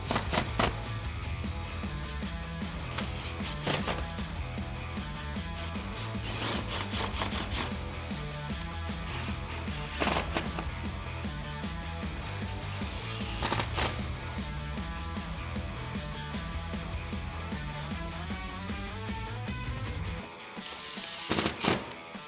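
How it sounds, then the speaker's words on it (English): An impact gun drives bolts on a chin spoiler for a 2015-2021 Dodge Challenger SXT, giving loud rattling hammering bursts that run almost continuously, with short sharper spikes mixed in and a brief pause near the end. "grab your impact gun and tighten those 2 down, and then repeat for the rest"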